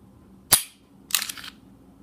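An empty Taurus Millennium G2 9mm pistol has its trigger pulled during takedown: one sharp, close metallic snap, then a short rattling click a half-second later.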